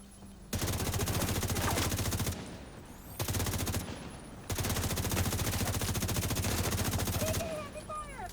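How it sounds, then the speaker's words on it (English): Heavy automatic gunfire from a video game hammers in sustained loud bursts with brief pauses between them, a steady rapid rattle close up. "Heavy fire."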